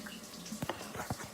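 Water poured into a container while making a gallon batch of slime, heard as a short run of soft splashes and gurgles in quick bursts.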